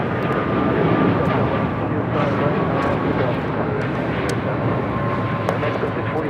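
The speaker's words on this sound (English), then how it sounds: "This is Aeromexico 647 taking off to La Ciudad de Mexico on a 787-8 Dreamliner" An Aeromexico Boeing 787-8 Dreamliner takes off at LAX bound for Mexico City, its jet engines producing a loud, continuous broadband roar that holds steady throughout.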